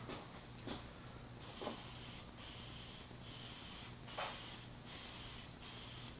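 A spray gun applies super chrome coating for water transfer printing in repeated short hissing bursts over a steady faint background hiss, quiet and with no voices.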